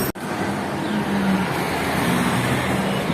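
A modified CB motorcycle engine fitted with a 71 mm piston and 66.2 mm stroke being revved up close, a loud continuous roar with a throaty low hum and slight pitch swells.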